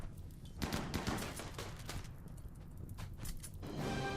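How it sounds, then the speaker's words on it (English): Dynamite explosions go off in RimWorld, a rapid string of sharp, crackling bursts that rise and fall in clusters over a few seconds, loud and dense, with no speech over them. "What is this? Where are these explosions coming from?"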